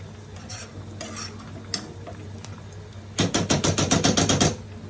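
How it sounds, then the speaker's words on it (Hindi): Garlic and spices cooking in ghee while being stirred constantly, a soft sizzle under scattered scrapes that turns into a rapid run of loud metallic spoon strikes against the pan near the end. "जैसे घी गरम होगा उसके साथ साथ सारे मसाले और लहसुन गरम होगा, कुक होगा, और इसको हिलाते रहना है कॉन्स्टेंटली"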